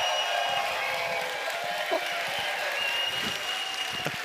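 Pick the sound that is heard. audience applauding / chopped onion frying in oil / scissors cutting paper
audience applauding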